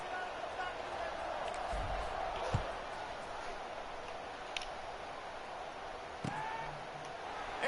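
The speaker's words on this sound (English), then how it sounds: "this crowd is buzzing after that last score." A stadium crowd buzzes during a college football video game featuring UTSA, a continuous dense hubbub of massed voices held at an even level, with a few faint ticks and thumps scattered through it.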